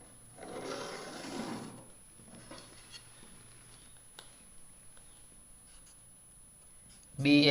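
A pencil drawing a straight ray across paper during a school geometry construction: one scratchy stroke lasting over a second, then faint intermittent scraping in a quiet room, ending with a sudden louder knock.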